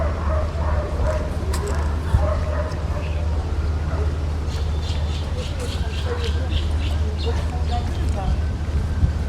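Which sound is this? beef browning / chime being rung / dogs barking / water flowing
dogs barking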